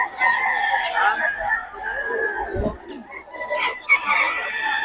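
A rooster crows nearby, with clucks and faint voices in the background.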